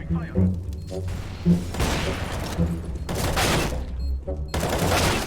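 Gunshots in a CS:GO match: several loud, noisy bursts of fire, some long, broken by brief pauses, played under a man's speech.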